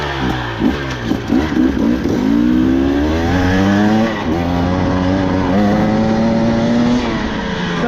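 A 2024 KTM 300XC-W two-stroke dirt bike with a TSP head and ECU tune revs loud and close, its engine pitch climbing and holding high through repeated throttle blips with no talk over it.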